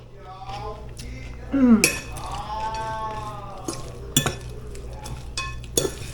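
A fork clinking against a bowl of ramen noodle salad, with a few sharp metallic taps spaced apart amid vocal sounds and light handling noise.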